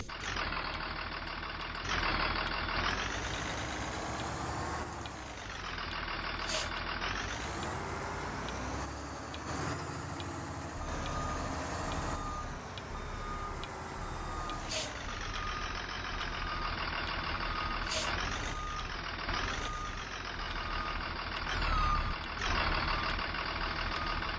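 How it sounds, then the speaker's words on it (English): A KCSD Blue-Bird GMC CV200 school bus in Rigs of Rods rumbles steadily as it maneuvers into a garage, its engine droning loud and close with reversing beeps chirping intermittently over the whole stretch. "I'm gonna park this bus in the garage like you always do"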